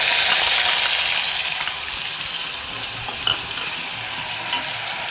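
Cumin, cloves, cardamom and onion paste sizzle loudly in hot oil, a close, continuous frying hiss with a few light stirring scrapes and taps.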